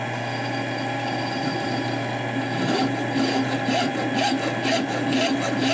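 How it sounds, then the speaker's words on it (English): Vertical lathe turning down a part to fit a carbon tube, a steady machine hum under a rasping, scraping cut that grows busier and more intermittent in the second half. "It's called, once again, it's called a vertical lathe."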